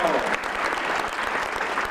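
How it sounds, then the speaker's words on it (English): An audience at a film premiere applauding steadily, a dense, loud wash of clapping throughout, with some voices mixed in. "Let's give them a round of applause."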